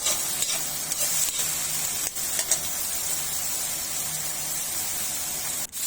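Garlic, onion and tomato sizzle steadily in a hot pan while being stirred, a continuous broadband frying hiss with a few soft scraping strokes, close and loud, with no voices.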